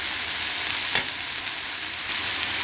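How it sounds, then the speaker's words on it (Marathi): Fenugreek leaves sauté in oil in a wok with a steady, close sizzle and a single sharp stirring scrape partway through. "चला आपण आता तेलामध्ये चांगली परतून घेऊया"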